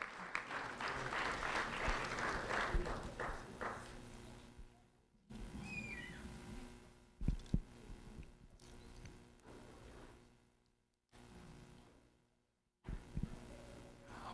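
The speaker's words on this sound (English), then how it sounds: "So if both students could come forward as we give them a round of applause for Jayden Davis and Yaneli Francisco-Lopez." A crowd applauds two students at a school event for a few seconds, then the clapping fades into quiet room noise with scattered shuffles and thumps.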